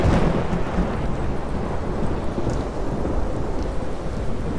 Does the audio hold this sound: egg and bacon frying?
no